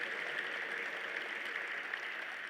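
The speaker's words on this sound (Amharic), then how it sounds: "ደስ ያለ ሰው ደግሞ ከዚህ በላይ ለጌታ አንድ ጊዜ ከፍ ያለው እልልታ ጭብጨባ እንዳለት" A church congregation claps steadily in praise to God, a dense wash of applause with a bright, sustained ululation-like tone over it, heard from a distance.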